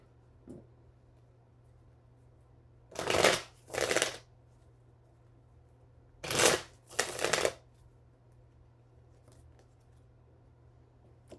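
A deck of tarot cards is shuffled close by in two pairs of quick riffling bursts, separated by quiet pauses over a faint steady hum.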